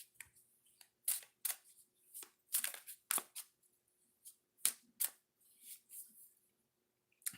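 Oracle cards being shuffled and drawn by hand, a series of crisp papery riffles and snaps in irregular bursts, close and fairly quiet with no voice.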